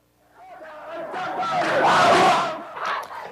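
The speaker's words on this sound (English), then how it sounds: "chanting pro-Yasser Arafat slogans" A large protest crowd roars and chants pro-Yasser Arafat slogans in unison in Lebanon, swelling to a loud peak before a shorter second burst, voices massed and fairly near.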